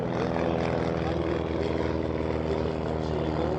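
Propeller airplane flying at the Oshkosh airshow, a loud steady droning engine and propeller hum with a slight rhythmic pulse, with an announcer talking over it.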